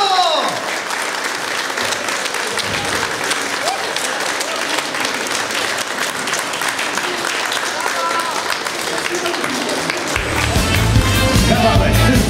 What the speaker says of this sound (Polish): Gorące brawo dla Pary Młodej!